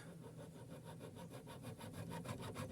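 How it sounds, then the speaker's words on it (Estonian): A groove is cut into a homemade machete with rapid, even back-and-forth sawing strokes, about a dozen close scraping passes that grow slightly louder toward the end. "nüüd siis hetkel tuleb siit lihtsalt teha üks soon sisse"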